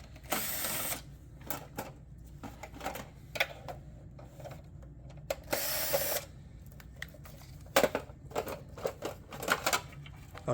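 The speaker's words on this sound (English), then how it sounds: "We're going to have to remove that screw and that screw" Screws being removed from the fax kit cover of a Xerox Primelink C9070/C9065 copier: a steady run of close, dry clicks and ratcheting taps, broken by a few louder bursts of handling and rattling.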